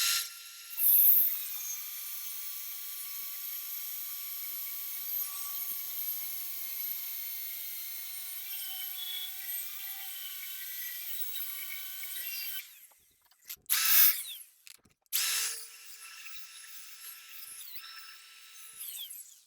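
A power tool cuts through a Borgeson steering shaft on an OBS Ford, a steady high whine running for about twelve seconds, then stopping and restarting in short bursts, fairly quiet.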